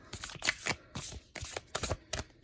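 Tarot cards are shuffled by hand in quick bursts of crisp riffling and slapping, several short repeated rounds close up and fairly quiet, with no talk.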